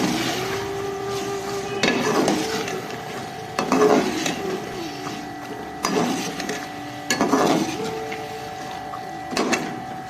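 Washed green peas stirred into minced meat in a pan, with scraping bursts about every second and a half over a steady background hum.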